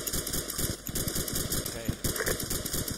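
Rapid machine gun fire in the video game ArmA 2 rattles out in fast, continuous bursts, loud and close, during an ambush training exercise.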